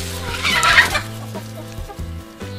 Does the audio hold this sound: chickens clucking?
yes